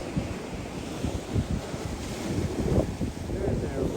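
Ocean waves surging against granite rocks at Peggy's Cove, a continuous roar of surf with wind buffeting the microphone, swelling gently in loudness, no speech.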